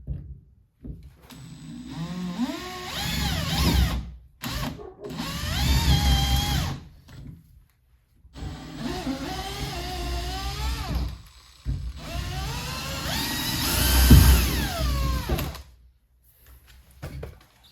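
A power drill drives a smaller bit into wood while installing a door and locks, whining in several separate bursts, its pitch climbing and falling, with short silent pauses between runs.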